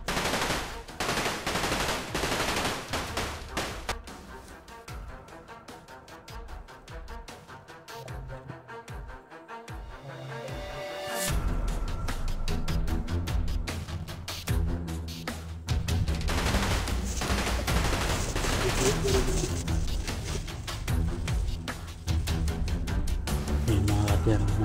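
Bursts of rapid gunfire, including machine-gun-like volleys, ring out loud and close, falling quiet midway before the shooting resumes heavily, with faint voices under the din.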